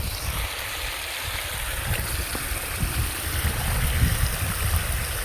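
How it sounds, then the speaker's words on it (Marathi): Water running in a small stream or channel on a farm, a steady rushing flow with low rumbling, continuous and fairly close, with no voices. "बघा आपलं किती पाणी चाललंय भूर भूर भूर भूर भूर"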